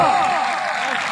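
Crowd applause at a pehlwani wrestling match between Saifullah Pehilwan Niazi and Balo Pehilwan Uzair Khan, a steady dense wash of clapping from many hands that holds level throughout.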